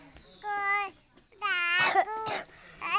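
A sick young child coughs at home, a few harsh, voiced coughs in short bursts close to the mic, with vocal, cry-like tones mixed in.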